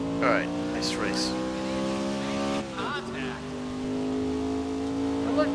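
A race car in GRID 2019 holds a loud, sustained engine tone, then drops sharply at a shift before the revs climb again and carry on steadily.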